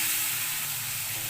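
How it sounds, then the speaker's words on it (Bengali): Ground spices, coriander, chilli and turmeric powder, frying in a pan for chicken curry give a loud, steady, continuous sizzle with a broad hiss, close by and unbroken, no talk. "সমস্ত মশলা দিয়ে ভাজা ভাজা হয়ে গেছে"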